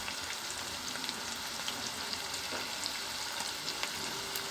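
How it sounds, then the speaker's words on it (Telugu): Country chicken curry pieces with salt and turmeric frying in a pan while being stirred, a continuous close sizzle with a few soft scraping knocks from the spoon and no talk. "మొత్తం కలుపుకోవాలి, బ్రౌన్ కలర్ వచ్చేంత వరకు కలుపుకోవాలి"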